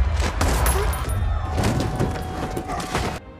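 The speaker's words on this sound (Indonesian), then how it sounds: "tembakan Leo yang sangat jitu langsung mengenai leher pria misterius" Gunfire in a tense action scene from the film Outside the Wire, a burst of shots and impacts packed into about three seconds, loud and close over a dense rumbling score.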